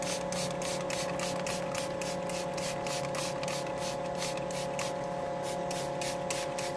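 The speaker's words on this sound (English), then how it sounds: "I just got a spray bottle of water and just spray the window down" Rapid, regular bursts of a spray bottle hissing water onto a car side window, over and over, close and steady, with a brief pause near the end.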